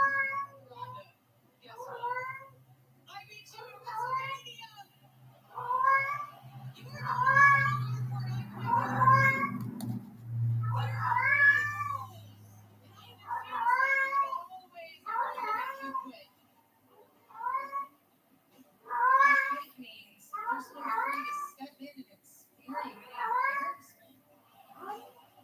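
A cat meows again and again in a steady series of close, loud calls, some drawn out into yowls, while a person talks briefly in the background.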